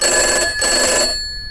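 A telephone bell rings in a video game, a loud steady electronic trill lasting about a second with a brief dip in the middle, then stopping.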